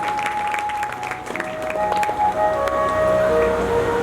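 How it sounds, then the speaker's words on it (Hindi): An audience at a Bhagavat Katha religious discourse claps loudly and steadily, a broad wash of applause that builds, with sustained musical tones ringing through it. "ऐसे बच्चों का जोरदार ताली बजाएंगे, स्वागत किया जाए"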